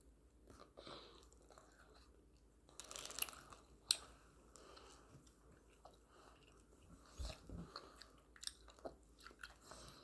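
Sour popping-candy jelly eaten up close, with soft chewing and scattered crunchy bites and crackles, a louder crunch near the start and irregular smacking toward the end, quiet overall.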